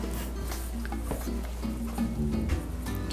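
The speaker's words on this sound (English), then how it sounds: "Want to stir there?" Rice pudding with evaporated milk being stirred in a pot, soft repeated scraping and clinks of the spoon against the pot over a low steady background bubbling.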